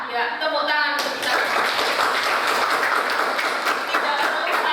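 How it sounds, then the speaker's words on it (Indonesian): A room of people applauds together in a steady burst of clapping after a brief spoken lead-in, the claps dense and close throughout. "tepuk tangan untuk kita"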